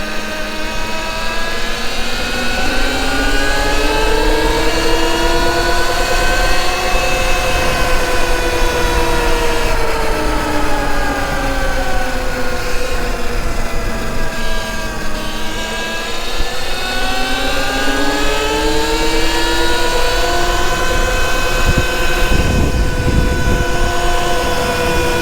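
A 72V Sur Ron electric dirt bike motor whines loudly and continuously on a hill climb in Malibu, its pitch rising and falling in sweeping waves as the throttle surges and eases.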